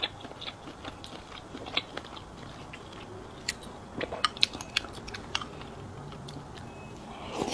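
Someone eating sliced fatty beef in a pork soup close to the mic, with soft, wet chewing and small crunchy bites ticking irregularly, busiest in the middle, and no talking.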